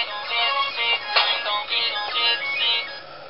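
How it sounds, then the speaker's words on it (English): A phone ringtone plays a bright, repeating melodic pattern, loud and close, with no other sounds. "And my phone is ringing."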